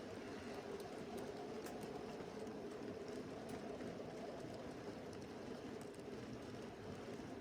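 A long N gauge model goods train rumbles along continuously with a soft, steady whirring and faint clicking, fairly quiet and unbroken throughout.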